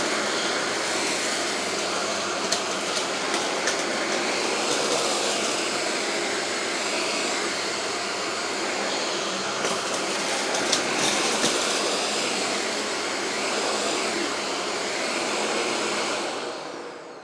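A Shark DuoClean AZ950UK vacuum cleaner with an 80-watt head motor runs steadily, a loud continuous broadband whooshing roar close by with small rattles and pitch shifts as it moves, fading down at the end.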